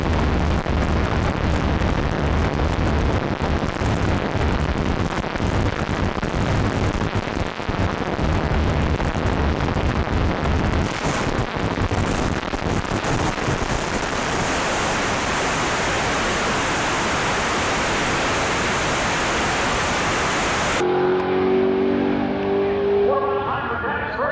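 An NHRA mountain motor class drag racing car roars at full throttle, a loud, dense, continuous engine blast with wind buffeting that ends abruptly, followed by faint tonal sound.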